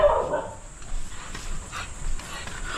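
A dog at a house gives short yips and soft whimpers, close by, in a few brief bursts over quiet background noise, with faint talk mixed in.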